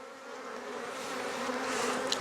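A honeybee colony in an overwintered nuc spread across six frames hums steadily, a close, continuous buzzing drone that swells slightly toward the end, with no voices.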